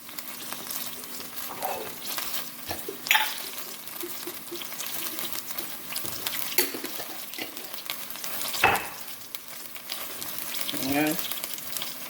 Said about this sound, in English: I'm just frying up my tomato paste for now.